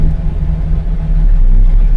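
A car engine idles at low RPM after the transmission is shifted into drive, giving a steady, loud, close low rumble that deepens slightly and thickens partway through.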